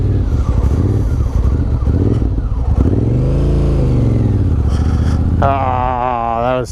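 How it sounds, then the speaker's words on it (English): Motorcycle on a rider training course making a U-turn, its engine running steadily close by with a slow rise and fall in pitch, then a sharp rev near the end. "I'm gonna bust a U-turn real quick."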